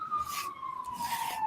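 A siren wails outside, a steady tone sliding slowly downward as it passes, with hiss and bursts of broadband noise around it.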